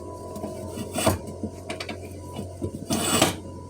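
Small metal drill press being loosened at its adjustment, a series of clicks, clanks and scraping knocks with two louder grinding bursts, close by.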